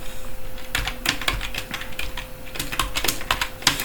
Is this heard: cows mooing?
no